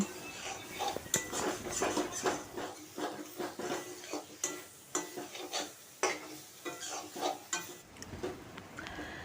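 Shrimp with spices sautéed in a pan, made alongside fried pointed gourd: repeated scraping and clinking of a spatula against the pan over a soft sizzle, steady and close.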